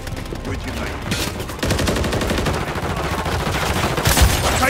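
Rapid automatic gunfire from a Call of Duty: Modern Warfare 3 (2023) Team Deathmatch match on the Skidrow map, dense bursts rattling continuously and growing louder partway through, with a sharp crack near the end.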